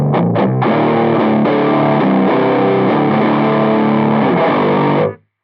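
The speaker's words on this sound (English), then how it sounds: "I want to call it a dad rock type of distortion" Heavily distorted electric guitar run through a Vox Tonelab EX effects unit in a live setup, a couple of quick picked notes followed by sustained loud chords ringing for about five seconds before cutting off.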